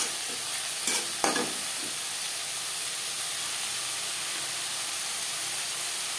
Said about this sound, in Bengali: পেঁয়াজের সাথে টমেটো বেশ ভালো করে মিক্স করে দেবো